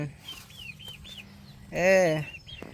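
Chickens cluck and chirp nearby in a rural home yard, with short rising calls followed by a louder, harsh squawk, all over a low background hum.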